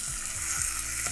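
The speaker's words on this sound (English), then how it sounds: "We added some oil, and we're just gonna add in our rice now" Rice poured into hot oil in a pan to toast, giving a steady close sizzle with soft stirring scrapes across a short stretch.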